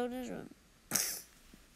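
A short, harsh cough bursts out once in a smoke-filled room beside a cauldron, right after a brief spoken phrase, in a voice imitating the sound.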